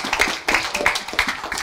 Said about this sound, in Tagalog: Pwede ba kami makahingi ng palakpak para sa sulit namin?